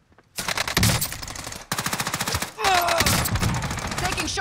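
Rapid automatic gunfire in a shooter video game, several loud sustained bursts of rattling shots in quick succession, with a short pause between volleys.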